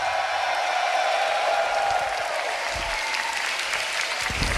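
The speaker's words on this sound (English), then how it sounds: "Can we please get a round of applause once again for Syjo?" A beatbox battle audience applauds a competitor at a grand championship event, a sustained wash of clapping from a large crowd with a few cheers and low thumps near the end.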